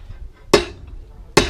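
A hammer strikes rebar being straightened at a construction site: two sharp, ringing metallic blows, close and loud, spaced nearly a second apart with quiet between.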